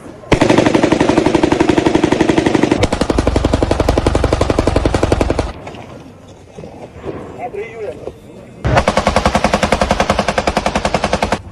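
Heavy machine-gun fire from fighting around a building in Mariupol, loud sustained rapid bursts that pause briefly mid-way, then resume just as intensely.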